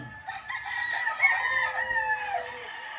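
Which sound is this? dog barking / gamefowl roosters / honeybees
gamefowl roosters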